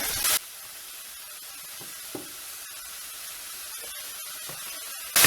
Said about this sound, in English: I'm just going to put some spray on there